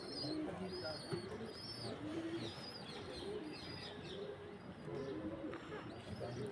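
Racing pigeons coo and chirp at landing on an Amritsar rooftop loft, repeated soft calls overlapping against an airy outdoor background, fairly close and moderately loud.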